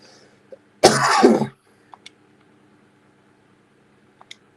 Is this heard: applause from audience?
no